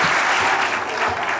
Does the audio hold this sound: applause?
yes